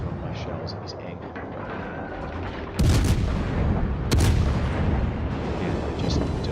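Naval artillery booms out in World of Warships, with two heavy, abrupt blasts from large-caliber ship guns over a rumbling battle backdrop, while someone talks throughout.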